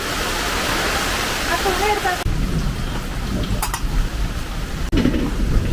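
Heavy rain pours steadily in a rural home setting during monsoon weather, with low rumbles of light thunder and gusting wind underneath; the downpour stays loud and continuous while voices talk faintly over it.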